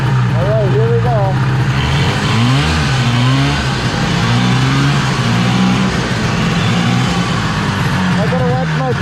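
A John Deere 400 snowmobile fitted with a Mikuni carburetor runs loud and close on a test ride, its engine droning and rising in pitch as it revs up and down.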